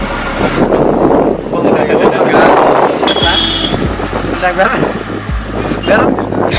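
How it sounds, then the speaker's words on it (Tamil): Strong wind roars and buffets loudly across an outdoor microphone in sustained gusts, while a person talks over the blustery rush. "காத்து சரியான காத்து, நான் சரியான காத்து அடிக்கிறேன்."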